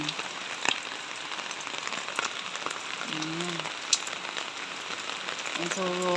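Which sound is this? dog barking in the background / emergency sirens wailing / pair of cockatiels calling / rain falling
rain falling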